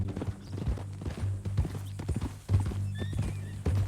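Horse hooves clip-clop steadily in a western-style video game set around a ranch town, with a horse neighing partway through over a low ambient hum and background music.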